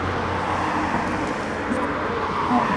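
Steady street traffic rumbles past as cars go by on a road, a continuous wash of vehicle noise with faint voices under it.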